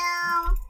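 A short meow from a cat in the Roblox game The Slayer, one drawn-out, wavering call heard close and alone.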